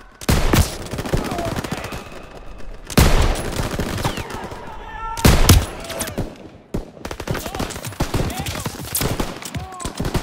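Heavy machine-gun fire from a half-track turret rips through a Call of Duty WWII battle in loud, dense bursts near the start, around three and five seconds, then keeps rattling steadily in the background with other gunfire.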